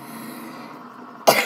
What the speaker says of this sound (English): Man, I've been getting a big cough lately.